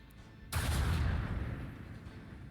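A ship's lance weapon fires in the video game Rogue Trader, a single sudden heavy blast followed by a long, roaring rumble that slowly fades.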